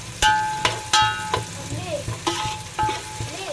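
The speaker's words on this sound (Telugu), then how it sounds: "ఫ్రెండ్స్, వేగిపోయినాయి కదా ఉల్లిపాయలు" Onions for chicken biryani fry in a pan while being stirred, giving a soft sizzle under repeated sharp metallic clanks and scrapes of the spoon against the pan, close and unvoiced.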